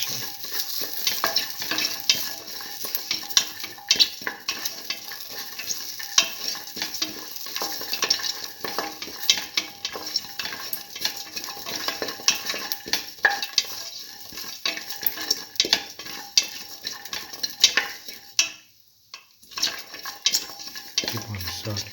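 Garlic and tomato mixture sautés in a pan for a pigeon pea stew, a soft continuous sizzle punctuated by frequent scrapes and clicks of a utensil stirring against the pan.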